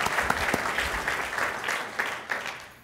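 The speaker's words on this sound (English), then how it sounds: "we'll have a round of applause." An audience claps steadily throughout at an FBI Citizens' Academy graduation ceremony, a dense, fairly loud round of applause with occasional sharper claps standing out from the crowd.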